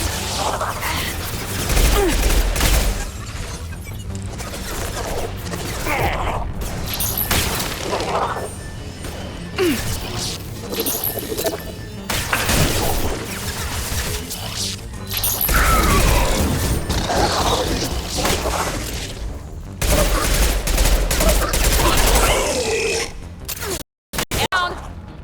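Gunfire and combat in Mass Effect 2 on the Horizon mission, with dense bursts of shots, impacts and crashes running throughout under occasional voices.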